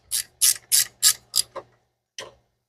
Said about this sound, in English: Ratcheting box in. One of the best tools ever.